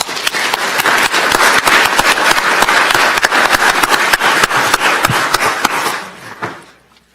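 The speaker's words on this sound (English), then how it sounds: "Please give them a round of applause." An audience at a county commissioners' public hearing claps in a brisk, fairly close burst of applause that stays even for about six seconds, then thins out and fades away.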